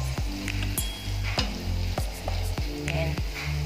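White onion frying in a pan until brown, with a steady close sizzle broken by regular scraping stirs about every half second to second, and no talk.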